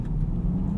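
A 2024 Aston Martin DBX 707 engine pulls while driving, a steady low rumbling drone heard from the cabin, brief and continuous with no talk.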